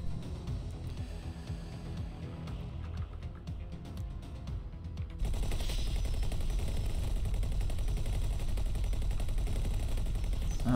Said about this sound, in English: I know the turrets aren't really going to hit much